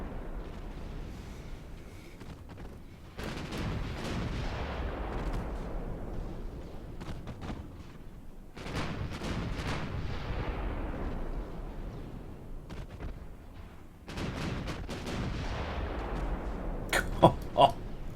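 Battleship 12-inch naval guns fire in a video game as three booming salvos, each a deep, rumbling blast that slowly decays before the next, loud and close, with sharp crackles near the end.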